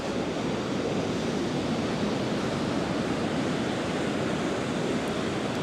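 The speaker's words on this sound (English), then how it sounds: "sights of the waves just crashing in." Ocean waves crash in continuously on a blustery, churning sea day at Blackpool, a dense steady roar of surf with wind noise, loud and close with no voices.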